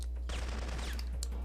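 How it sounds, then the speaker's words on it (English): A loud, sudden explosion in the Syphon Filter video game, a dense noisy blast that hits after a brief lead-in and fills the clip with crackling, rumbling debris. "I hate the explosions in this game."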